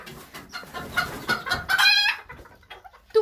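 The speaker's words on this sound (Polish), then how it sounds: "To jest na przykład ich tata, kogucik." Chickens cluck close by in short bursts, and a rooster lets out a brief crow partway through before the clucking resumes.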